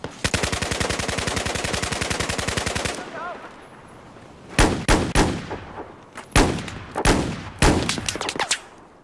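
Gunfire in Battlefield 4 on PS3 during a hardcore team deathmatch: a long rapid automatic burst, a short pause, then several loud separate shots and short bursts close by, with no talking.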